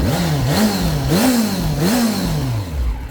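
A Yamaha FZ6N Fazer 600 motorcycle engine revs three times in quick succession, rising and falling in pitch over a steady idle, loud and close.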